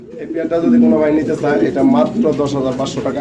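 Pigeons coo in low, rolling bursts beneath someone talking steadily throughout, the calls close and fairly loud.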